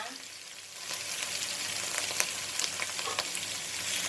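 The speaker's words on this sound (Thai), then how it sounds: "ผัดพริกให้หอมนะคะ" Chili paste stir-frying in hot oil for a pork and bean dish, a steady close sizzle with faint scraping of the spatula, swelling a little after the first second and holding level.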